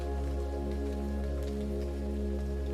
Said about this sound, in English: Another large gust of wind rattles the branches of the tree outside and sends a flurry of raindrops towards the house.